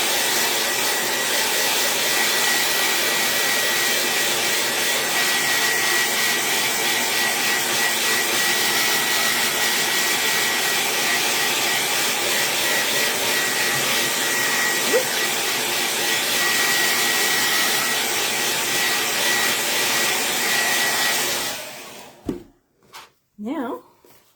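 A hair dryer blows steadily and loudly for about twenty seconds, drying freshly sprayed chalk paint on a craft project, then clicks off, leaving a few brief handling knocks.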